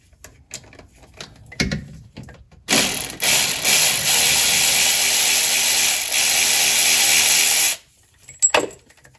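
A hand ratchet loosens the transmission pan bolts on a 2013 Mercedes C300 W204 4Matic. A few soft clicks come first, then a loud, continuous rapid clicking for about five seconds, and it ends with a couple of sharp knocks.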